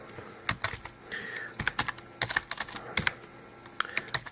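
Someone types on a computer keyboard with quick, irregular bursts of clicky keystrokes and short pauses, fairly close and alone with no talking.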